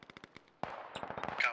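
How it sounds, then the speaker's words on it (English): Rapid gunfire in a military video game, a quick burst of faint pops followed by a louder, denser stretch of automatic shots, with some overlapping noise. "Shooting going on up top here."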